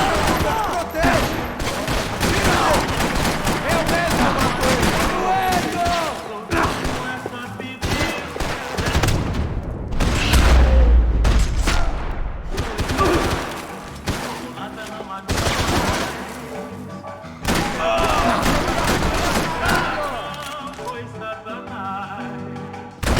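Gunfire in the video game Max Payne 3: dense, repeated volleys of shots crackle and thump loudly and almost without pause, with brief lulls between bursts of rapid fire.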